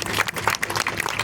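An audience at an annual function claps in a short, dense burst of welcoming applause, fairly close and steady.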